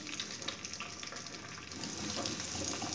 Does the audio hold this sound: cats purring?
no